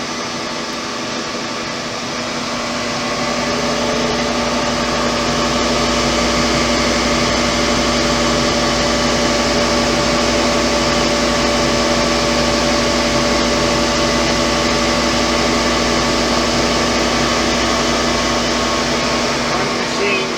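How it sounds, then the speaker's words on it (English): A Blanchard 22AK 42 rotary surface grinder runs with its rotating table engaged, giving a loud, continuous mechanical drone and hum that holds steady throughout. "You got the table rotation on."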